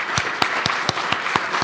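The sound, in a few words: audience applause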